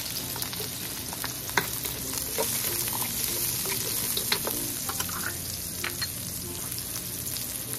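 Garlic and onion frying in hot oil in a pan keep up a continuous, fairly loud crackling sizzle with scattered sharp pops and light stirring clicks throughout.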